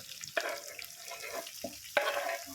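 Potato and ivy gourd fry in a pan with a soft, continuous sizzle, broken by a few sharp stirring scrapes and clicks of a spoon, fairly quiet and close.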